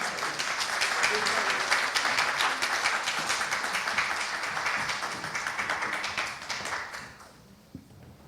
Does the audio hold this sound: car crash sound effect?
no